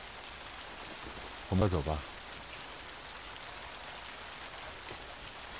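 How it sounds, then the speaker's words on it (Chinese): Steady rain falls as a continuous soft hiss throughout, with a brief spoken line heard over it. "下雨了"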